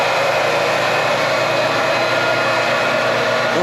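Reverse osmosis machine and pump processing maple sap, a loud, constant broadband whoosh and hum close by, steady with no pauses or talk.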